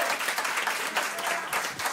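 A live concert crowd bursts into brief, full applause, dense clapping filling the space loudly and evenly.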